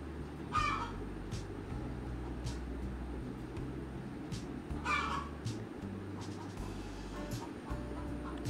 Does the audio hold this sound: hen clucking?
yes